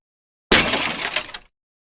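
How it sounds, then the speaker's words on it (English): A glass vial smashes in one sharp, bright burst of breaking and scattering shards that rings briefly before cutting off, a close and loud sound effect. "smashed the first vial"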